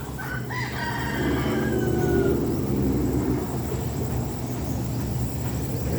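A rooster crows once near the start, followed by clucking hens over a steady low rumble of farmyard background noise.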